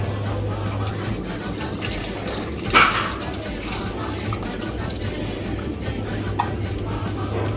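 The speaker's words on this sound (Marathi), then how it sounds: "आता ह्याच्यामध्ये मी आपण जो चिंचेचं पाणी करून घेतलेला आहे तो टाकणार आहोत." Tamarind water pours into a pot of sambar with drumsticks, a steady liquid wash topped by one brief louder splash near the middle, over a constant low kitchen hum.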